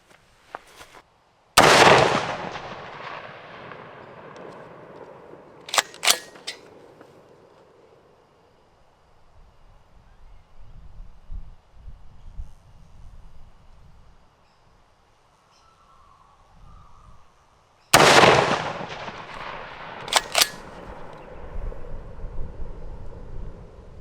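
Two sharp, loud rifle shots are fired while zeroing a ZeroTech Thrive HD 1-8x24 LPVO scope, about sixteen seconds apart. Each crack is followed by a trailing echo, and quieter outdoor background noise and faint handling sounds fill the gap between them.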